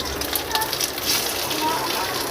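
Fish heads fry hard and crisp in hot oil for a Bengali moong dal. A close, continuous crackling sizzle carries on without pause and holds an even level throughout.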